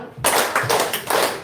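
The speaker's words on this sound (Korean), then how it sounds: "아싸! 박수 세 번 시작!" An audience at a religious futures studies seminar lecture claps in unison, three sharp, loud group claps with short pauses between, clear and close in a hall.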